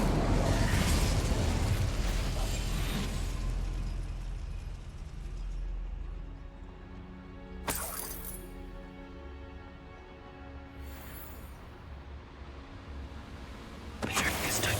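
An Incendio fire spell cast in Hogwarts Legacy on PS5 gives a loud burst at the start, then softer magical crackles and a couple of sharp whooshing hits later, with game mechanisms clicking under a voice.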